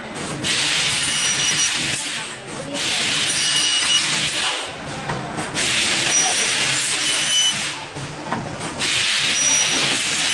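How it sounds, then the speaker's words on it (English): An industrial cutting machine burns through thick metal with loud, sustained hissing bursts of a few seconds each. Brief dips separate them, and the sound is close and rough. "this advanced machine swiftly burns through thick metal, producing perfect cuts in one mesmerizing pass."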